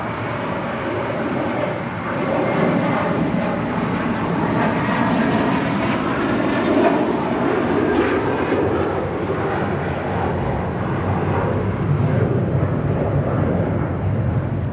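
A JetBlue Airbus A321 takes off at LAX, a loud, steady broadband jet roar that holds for the whole stretch with a slight rise and swell, with no talk over it.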